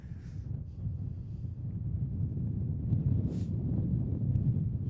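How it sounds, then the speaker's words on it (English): Steady low rumbling wind buffets the microphone throughout a women's university league match in Edinburgh, a constant blustery roar with no voices. "which makes sense because it's very windy"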